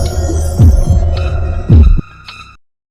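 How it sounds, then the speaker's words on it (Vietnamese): A rapid pounding heartbeat sound effect in a dramatic telling of the Moon Goddess legend, deep thumps repeating over a sustained low hum before cutting to quiet. "tim đập dồn dập"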